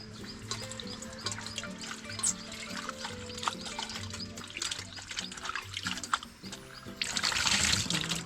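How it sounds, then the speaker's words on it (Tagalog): Kangkong (water spinach) rinsed by hand under running water, a steady splashing trickle with the soft rustle of leaves, a low hum beneath and a louder rush of water near the end. "huhugasan lang natin tong kangkong"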